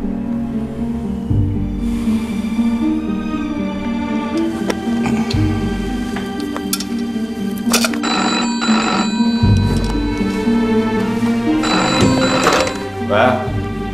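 A telephone rings in repeated bursts in a wartime Chinese drama scene, with people talking over and between the rings.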